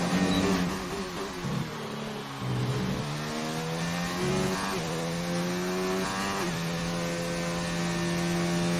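A race car on a qualifying flying lap in Spain, its engine screaming loud and close, revving up through the gears with brief dips at each shift before holding a high sustained whine.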